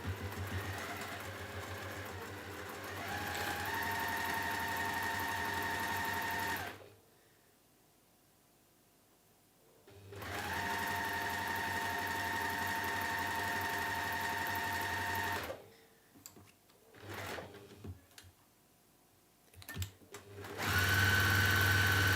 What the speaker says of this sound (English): now we top stitch, and this is going to create our handle